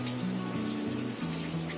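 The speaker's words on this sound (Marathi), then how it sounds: "आता मी पाणी काढून टाकते त्याच्यातला." Water being drained off half an hour's soak from a batch of rinsed rice, a steady splashing patter with a faint underlying hum, close and unbroken, without speech.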